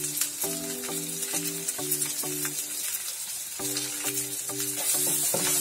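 Whole spices (bay leaf, dried red chili, cloves, cardamom, cinnamon) fry in a pan for a flattened rice pulao, a soft steady sizzle under rhythmic stirring scrapes, with a repeating tonal melody playing over it.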